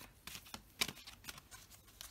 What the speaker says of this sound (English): You often don't see me shuffle that way.